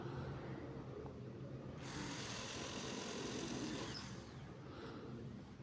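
A power drill bores holes for a door lock or aldrop fitting, a steady loud whirring grind that changes pitch partway through as the bit cuts.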